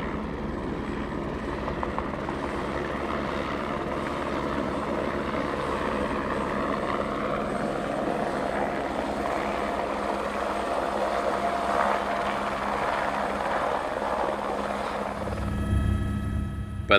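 A helicopter flies over the snow and rock of Antarctica, its rotor and engine making a steady, loud, close drone from start to finish, with a deeper rumble swelling near the end.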